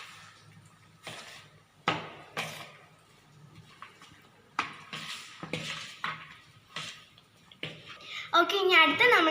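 Spices being mixed in a bowl during a children's cooking competition, with a series of sharp metallic clinks and scrapes of a spoon against the dish, growing busier near the end, while a person speaks between the strokes.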